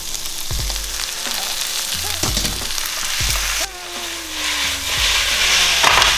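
Glass noodles and vegetables are tossed with sauce in a hot pan for japchae. A steady, loud sizzle carries on throughout, broken by scraping stir strokes and a few clunks close by.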